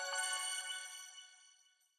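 A short accent phrase sample from the Yokai kit rings out with bright, chime-like harmonic tones that start strong and decay smoothly over about two seconds, standing alone.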